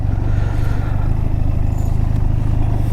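Motorcycle engine running steadily at close range on a monsoon road trip near a reservoir, a continuous low rumble with no pauses or talk.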